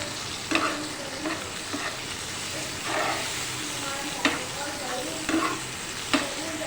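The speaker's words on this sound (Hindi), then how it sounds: "अब हम ये सब डाल के इसे खूब अच्छे से मिक्स करेंगे।" Black chickpea masala with ground and crushed coriander and curry leaves being stirred and fried in a pan: a constant close sizzle broken by repeated spoon scrapes and clanks against the pot at an irregular pace.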